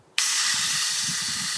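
A garden hose bursts on with a sharp onset into a loud, steady spray hiss that carries on evenly and close, alone with no speech.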